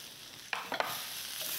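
Tofu and cabbage sear over high heat in a stir fry, a constant loud sizzle broken by a few sharp scraping stirs of the pan; no talking.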